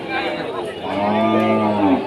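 A cow lets out a long, loud, drawn-out moo close by at the Rustampur cattle market in Rajshahi, on a rainy day, with a low murmur of a crowd in the background.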